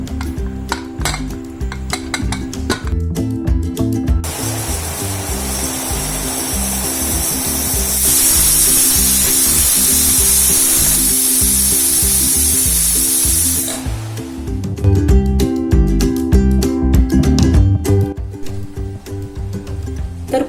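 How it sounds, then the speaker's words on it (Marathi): Pressure cooker whistle venting steam while cooking chickpeas, a loud continuous hissing release that rises and holds for several seconds, framed by a steady rattling, clattering cooker weight before and after, with no talk. "आपल्याला कुकरची जी शिटी आहे साधारण 5 किंवा 6 पर्यंत करायची आहेत।"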